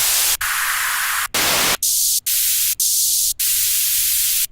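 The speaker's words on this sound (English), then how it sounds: "White noise." A white noise effect sample from the Granada minimal techno pack: loud, hissing bursts of static repeated in a chopped rhythm, cut by short gaps, with some bursts brighter and thinner than others, no voices.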